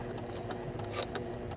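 A home sewing machine stitching over a thick, extra-bulky waistband, its needle running in a fast steady rhythm with brief pauses, loud and close with no voices.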